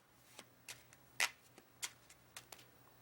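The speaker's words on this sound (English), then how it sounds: "This is called the haymow shuffle. And it's an old-time false shuffle." Playing cards worked through a haymow false shuffle, an old-time technique, give a handful of soft, crisp snaps at irregular intervals, faint and close in a quiet room with no talk.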